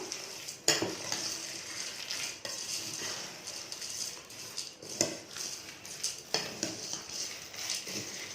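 A bottle gourd mixture is stirred in a pan with a utensil, giving repeated scraping and clinking strokes over a soft frying sizzle, close and steady throughout.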